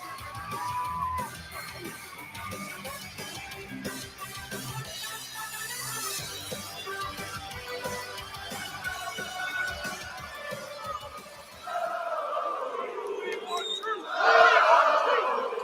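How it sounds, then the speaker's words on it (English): A large crowd roars and cheers in a wrestling arena during a live WWE Monday Night Raw broadcast, a continuous distant din with shouts, swelling louder toward the end. "Oh, hear that crowd."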